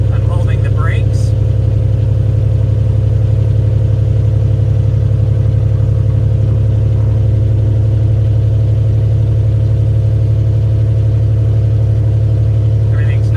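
Light aircraft piston engine held on the brakes during a run-up as the throttle is advanced to higher RPM, a loud steady drone with a strong low hum throughout, while someone talks over it.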